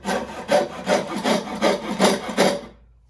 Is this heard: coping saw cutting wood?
yes